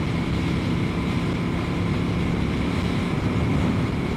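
A Royal Enfield Goan Classic 350 single-cylinder motorcycle pulls hard under acceleration, a steady dense engine drone mixed with wind rush, loud and continuous without any speech.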